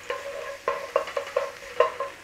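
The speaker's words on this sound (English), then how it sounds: "Tiny amount of oil this time. Garlic." Garlic frying in a tiny amount of oil in a pan gives a steady soft sizzle, broken up by about eight sharp scraping stirs close by.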